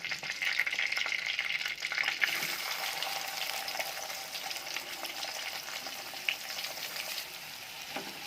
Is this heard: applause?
no